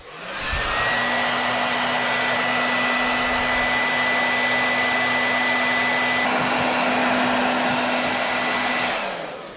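A hair dryer blows steadily on wet paint coating a jointed swimbait lure, a loud continuous whooshing drone with a faint high whine that runs for about nine seconds before cutting off.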